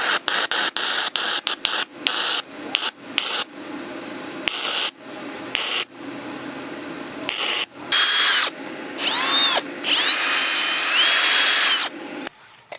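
Steel custom lift spacers for a Honda Pilot being welded, giving repeated loud bursts of harsh crackling broken by short pauses. Several stretches carry a higher whining tool tone.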